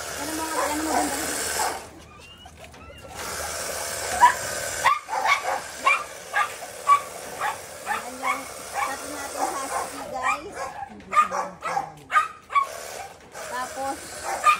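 Dogs, including Shih Tzus, bark and yip during bath time, short sharp calls recurring under running water and mixed with people talking nearby.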